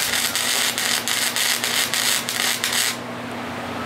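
Crackling, buzzing arc of a short tack weld on a steel welding cart, a close steady hiss with regular pulsing, cutting off abruptly after about three seconds to leave a low fan-like hum.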